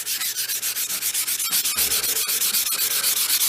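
Sheet of 1000 grit sandpaper rubbed in quick, even back-and-forth strokes on a Stanley screwdriver being restored, a close, loud rhythmic scratching of about six strokes per second with no talking.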